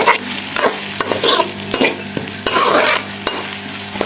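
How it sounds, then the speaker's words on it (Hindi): Onions sizzle and crackle steadily in hot ghee, with a spoon scraping and stirring the pan at intervals, close and unbroken by speech. "प्याज ऐड कर देंगे और इनको अच्छे तरीके से फ्राई कर लेंगे"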